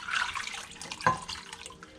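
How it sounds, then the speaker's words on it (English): Water is poured from a cup into a pan holding leftover chicken juice while cooking Filipino pancit bihon, a short splashing pour heard up close with no talking. "So I'm gonna add 1 cup of water."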